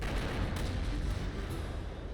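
A steady run of muffled explosive booms from explosive arrow shots in Turok 2, dense and continuous, loud with a low rumbling body.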